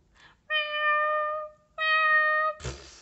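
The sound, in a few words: male cats fighting and yowling at night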